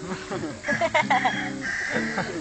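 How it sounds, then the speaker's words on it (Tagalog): Chicken clucking close by, with people talking over and around it throughout. "Manok lang yan."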